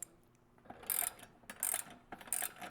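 A wrench ratchets as it tightens a bolt on a Bridge Built Phoenix squat rack, giving three short bursts of crisp metallic clicking, close by, with no talk.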